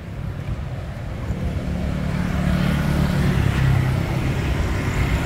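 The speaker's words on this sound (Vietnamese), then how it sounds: "Đây, động cơ Yanma" A Yanmar NFA70 diesel engine runs close by with a steady low chugging drone that builds slightly louder midway and holds.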